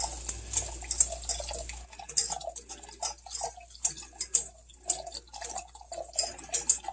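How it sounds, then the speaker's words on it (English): Warmed milk is poured slowly into a nacho cheese sauce, giving a continuous run of soft, close liquid drips and burbles with light clicking and trickling throughout. "We're going to add this warmed milk slowly"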